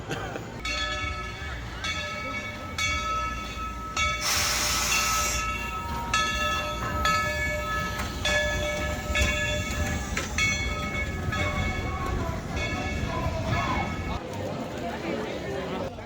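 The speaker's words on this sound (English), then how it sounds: "just take a nice train ride" The Dollywood Express train rolls along with a steady rumble and rhythmic clatter, while people talk over the noise throughout.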